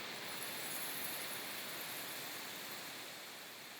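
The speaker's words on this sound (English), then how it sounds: "Beautiful sizzle." A soft, continuous hiss of waffle batter sizzling in a hot waffle iron, steady and fairly quiet, with no voices over it.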